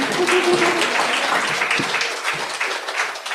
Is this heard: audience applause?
yes